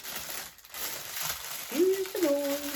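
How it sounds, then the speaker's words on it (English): Close crinkly plastic packaging rustles around Disney Halloween Mickey ears as they are pulled out, irregular crackling bursts with a brief tonal squeak near the end. "Apologies if the crinkly is a bit noisy."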